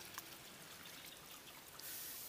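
Water trickles from a fountain into a koi pond at a bonsai museum in Alcobendas. The flow is soft and steady, with a quiet, even splash and no voices.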